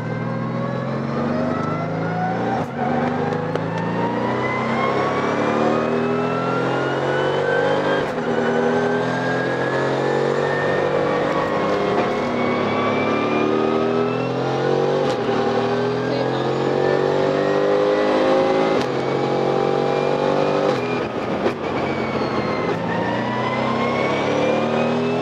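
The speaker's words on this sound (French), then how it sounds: "t'es à Spa-Francorchamps, une voiture de course pour ta première fois" A BMW 1 Series race car accelerating around the Spa-Francorchamps circuit, its engine rising again and again through the gears in loud, continuous revving climbs, with people talking over it inside the car.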